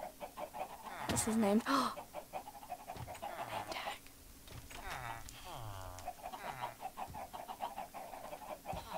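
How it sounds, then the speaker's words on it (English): Chickens clucking in a Minecraft SMP game, a cluster of sharp game-creature calls and squawks up close, mixed with talking and a brief exclamation. "And they're all the chickens that I let out."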